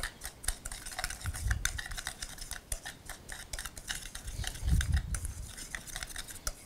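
A spoon clacks and scrapes steadily in a bowl of blackened seasoning for tilapia, pressing clumps apart with quick, irregular dry taps and a couple of heavier thuds, close and fairly quiet.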